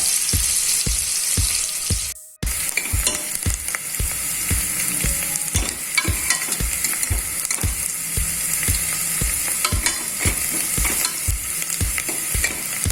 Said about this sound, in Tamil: நல்லா வதங்கி கோல்டன் ப்ரௌன் ஆகணும்